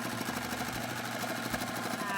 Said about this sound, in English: I'm gonna go ahead and start sewing the ends together to create the corners.